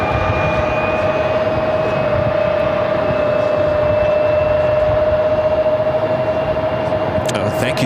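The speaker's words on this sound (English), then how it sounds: "Next arrival is American Eagle, SkyWest flight 9931, coming in from Santa Fe, New Mexico, CRJ 700" An American Eagle SkyWest CRJ 700 regional jet arriving at Phoenix airport gives a steady, loud, continuous engine roar with a sustained whine, unbroken throughout, with a brief burst of other noise near the end.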